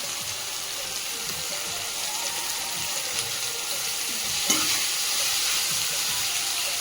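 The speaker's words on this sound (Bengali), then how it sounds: "মশলাটাকে ভালো করে কষিয়ে নেব" Spice masala with ginger paste and fried tomato and onion sautés in a pan, giving a continuous close sizzle and one brief scrape of stirring near the end.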